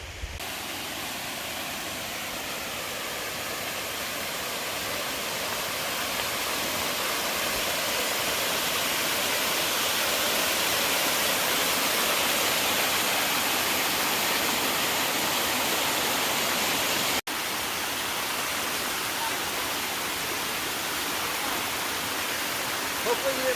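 A waterfall on the Appalachian Trail roars in a steady, loud, close wash of rushing water that continues unbroken apart from a brief dip.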